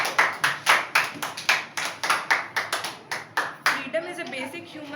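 Audience claps in a dozen or so loud, evenly spaced bursts, a rhythmic unison clapping that stops after about four seconds as a voice begins talking.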